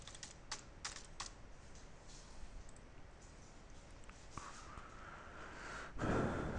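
Someone types a username and password on a computer keyboard, with soft, faint key clicks. A short burst comes first, then quieter tapping and a louder thump near the end.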